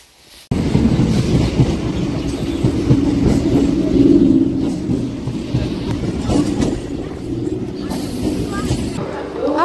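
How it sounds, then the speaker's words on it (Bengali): A Bongaon local train pulls out of Ranaghat, its carriages rumbling steadily with clickety-clack wheel noise throughout, close and loud, with some voices in the background. "রানাঘাট থেকে ছেড়ে এলো বনগাঁ লোকালটা 8:34"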